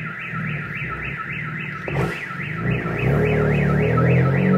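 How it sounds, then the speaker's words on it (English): A car alarm wails nearby in a rising and falling siren, with an engine rumbling underneath. "Oh, I just set off that car alarm."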